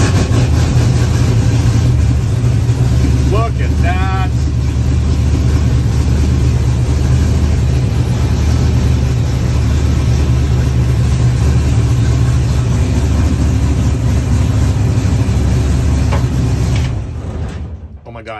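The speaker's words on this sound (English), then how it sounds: "I'm gonna start the car up." A 1967 Camaro's engine runs at a steady, loud idle, a dense low rumble that holds for most of the time and then cuts off near the end, with brief speech early on.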